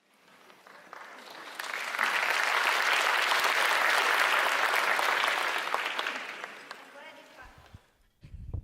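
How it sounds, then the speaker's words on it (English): Audience applause at a humane education talk swells within a second or two into a full, loud ovation, holds, then thins and fades, with a voice briefly starting up at the end. "I'm glad you clapped"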